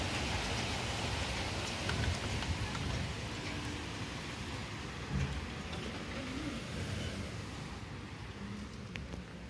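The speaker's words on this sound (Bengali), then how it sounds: "একদম ঘনভাবে বৃষ্টি হচ্ছে।" Heavy rain pours over the Ganges in a dense, constant hiss of drops on surfaces, loud and unbroken with a low rumbling undertone throughout and no voices.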